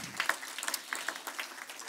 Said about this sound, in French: On peut l'applaudir, hein, franchement